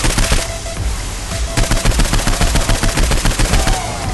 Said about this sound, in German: dann auf die Bastarde schießen